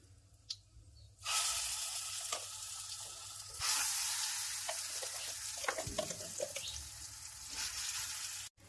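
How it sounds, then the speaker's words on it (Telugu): A loud sizzle bursts out as ground mango pickle hits hot tempering oil. A second wave of sizzling follows and keeps hissing steadily, with a few stirring clicks. "మనం ముందుగా మిక్సీ చేసుకున్న పచ్చడిని వేసుకోవాలి."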